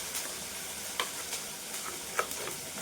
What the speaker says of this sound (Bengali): আর এই যে লঙ্কা ফোড়নে দিলাম